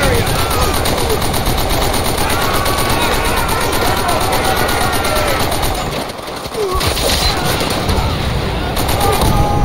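Sustained machine-gun fire from a World War II battle in Call of Duty: World at War, loud and continuous bursts over the whole stretch, with a brief lull midway and battlefield shouting mixed underneath.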